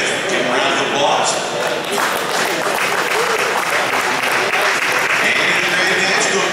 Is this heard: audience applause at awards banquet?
yes